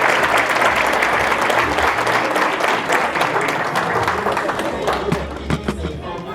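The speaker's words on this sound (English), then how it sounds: "Let's give another round of applause for Easton." Audience at a school superintendent's award ceremony applauds a student, a loud sustained roar of many hands clapping with some cheering, gradually thinning toward the end as scattered claps remain.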